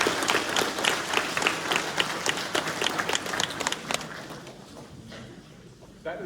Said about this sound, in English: Have a little round of applause